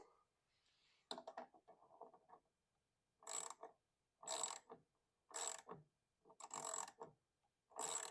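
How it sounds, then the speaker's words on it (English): A wrench or ratchet clicks in short bursts while a nut is tightened against the small ratchet mechanism of a Williams Solids N' Stripes pinball machine, with about five close, distinct clicking runs separated by quiet pauses. "Should be able to tighten it against the little ratchet mechanism."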